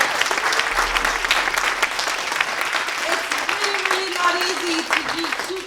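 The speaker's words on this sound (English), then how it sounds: "Let's clap for all of them because they're just incredible." Audience applauding a startup team at a demo day event, steady dense clapping from a crowd, with voices faintly underneath.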